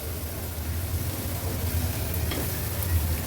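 Turmeric and masala being stirred in a frying pan for a Maharashtrian vegetable dish, a soft continuous sizzle with faint scraping, fairly quiet and without speech.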